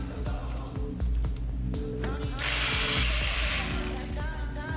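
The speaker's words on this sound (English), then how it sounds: "So now we take our 10mm bolts off the housing." A ratchet clicks rapidly in repeated runs, loosening 10mm thermostat housing bolts on a Ford 4.6L V8 Crown Victoria close by, with metallic ticking and a brief louder hiss partway through.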